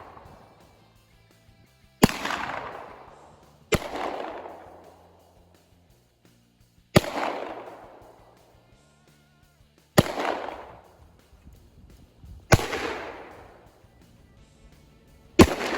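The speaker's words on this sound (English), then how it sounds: "We're going to be shooting a 9mm, right? 450 Bushmaster, a couple different ones of those, and yeah, just going to have a little fun shooting here." Six single shots from 9mm and .450 Bushmaster firearms ring out outdoors at irregular intervals a couple of seconds apart, each a sharp loud crack trailing off into a short echoing decay, with quiet between them.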